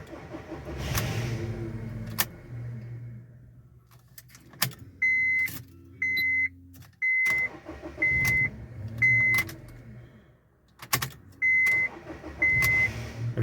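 A Honda Civic G8 starter motor grinds in several short, harsh bursts as the car is cranked, mixed with clicks and some engine noise at moderate loudness, with pauses between attempts.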